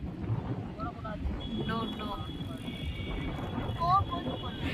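A horse whinnies a few times on a windy Chennai beach in the rain, short high neighs over strong wind rumble, with people talking nearby.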